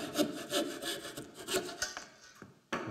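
A hand saw cuts wood for a carved wooden scoop in steady back-and-forth strokes, close and rasping, slowing and pausing briefly before one more stroke.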